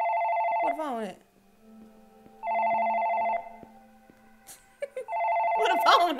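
A telephone rings in a horror video game, sounding as two loud bursts of electronic ringing separated by a quieter pause, with someone talking over and between the rings.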